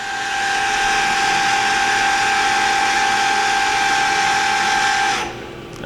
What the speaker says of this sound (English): That's 2500 RPM on the live tool.